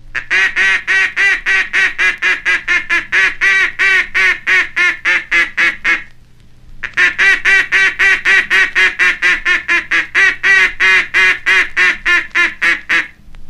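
A mallard duck call blown to imitate the full-voiced, contented quacks of mallards on water: two long runs of loud, rapid, evenly spaced quacks, separated by a brief pause.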